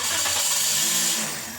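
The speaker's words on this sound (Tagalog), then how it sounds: "pa-start ko na itong makina" A Toyota Vios engine with its engine cap just refitted after an oil change turns over and settles into a steady mid-pitched running hum, close and continuous, easing slightly toward the end.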